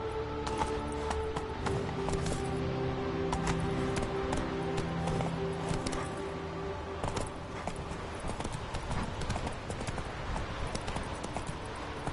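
Hooves of Roach, a horse in a PS4 video game, clip-clopping in a steady trotting rhythm over a continuous game soundtrack, fairly close and moderately loud.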